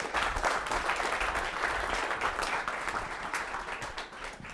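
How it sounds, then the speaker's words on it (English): Summit audience applauds a panel of speakers at a digital marketing event, a sustained crowd of clapping that begins fairly loud and eases off slightly toward the end. "I want to give a big round of applause for our expert panelists here."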